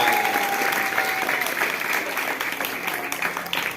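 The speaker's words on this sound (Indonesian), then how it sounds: "Tepuk tangan anakku" Schoolchildren clapping together at an elementary school language month festival, a lively, sustained patter of many small hands that stays steady and fairly close, with a faint voice or tone briefly audible early on.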